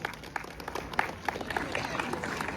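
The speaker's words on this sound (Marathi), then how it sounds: "एकदा जोरदार टाळ्या होऊन जाऊ द्या." A crowd at a school Republic Day prize distribution claps steadily, a dense, even patter of applause lasting a few seconds with voices mixed faintly underneath.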